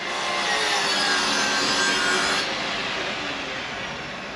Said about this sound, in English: He's drilling now